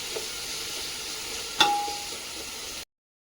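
Onions for a home-style veg biryani fry in a pan with a soft, even hiss. A single metallic clink from a spoon or the pan lands midway, and the sound then cuts off abruptly.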